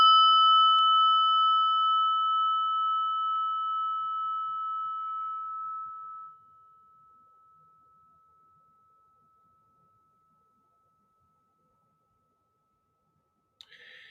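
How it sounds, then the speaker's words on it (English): A single meditation bell is struck once and rings out in a clear, pure tone that fades over about six seconds into silence. "listen to the bell"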